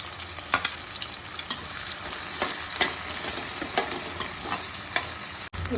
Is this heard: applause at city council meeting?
no